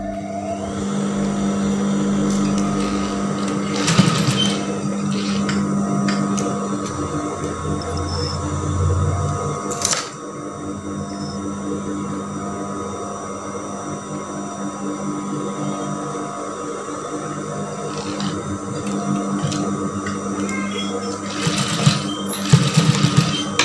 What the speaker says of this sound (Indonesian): bagian tengahnya ini kita kunci dengan jahitan berulang kali